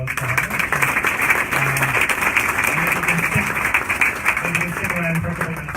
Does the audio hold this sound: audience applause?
yes